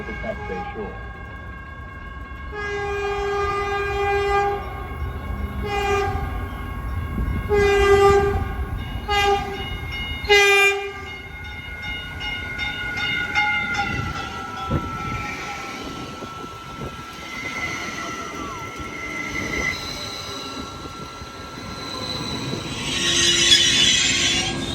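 A train rolls in with loud, repeated horn blasts in the first half, followed by steady rumbling and squealing wheels, with faint voices in the background.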